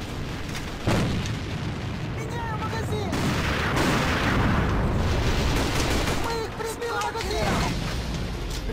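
Tank fire in the online shooter game A.V.A: heavy booms and rumbling blasts roll through amid dense battle noise, with players talking over the action.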